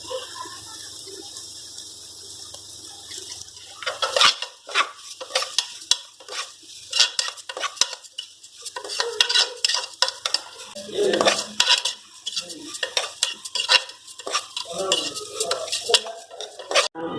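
Moong dal and grated coconut being dry-roasted in a pan for mango dal payasam, a soft sizzle under frequent scraping and clattering strokes of a spoon against the metal, close up, with no speech.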